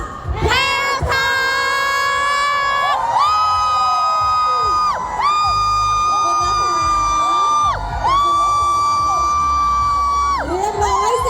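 A crowd of children at the PRAEWTALK 2026 stage event at centralworld shouts the event name in unison after a count, then cheers and whoops loudly and close, in repeated bursts.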